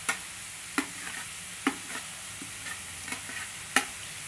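A utensil scrapes and taps against a pan while cumin is stirred into lightly browned frying potatoes, several separate stirring knocks over a constant soft sizzle.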